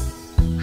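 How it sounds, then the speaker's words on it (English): A single short quack rings out in a children's playground song about five little ducks, brief and close over the music. "Mother duck said quack, quack, quack, quack"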